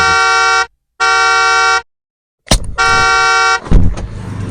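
A car horn honks three times in long, steady blasts separated by short gaps, loud and close, with street noise rising after the last one.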